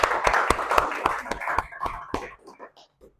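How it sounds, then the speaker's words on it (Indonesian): A group claps for a few seconds at the end of an online lecture class. The sharp, uneven claps thin out and fade, and there is no talking. "Tepuk tangan buat kita semua."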